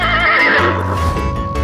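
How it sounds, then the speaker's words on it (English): A horse gives one loud, close whinny that wavers and trails off over under two seconds, heard alone. "Horse."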